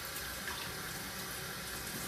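Cold water runs steadily from a kitchen tap while boiled eggs are rinsed, a continuous close splashing hiss with no talking.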